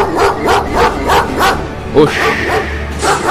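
Cartoon dog barking in a rapid series of sharp yips and barks, loud and close, with a voice speaking over part of it.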